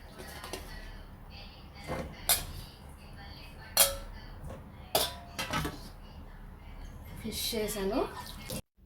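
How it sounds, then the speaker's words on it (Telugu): Fish being stirred in oil with salt, chili and turmeric gives clinks and scrapes of a spoon against a pot, a few sharp knocks spaced apart over a low background, with a faint voice. "ఆయిల్లో ఫిష్ మళ్ళీ అన్నీ ఉప్పు కారం పసుపు అన్నీ వేసి కలుపుకోవాలన్నమాట"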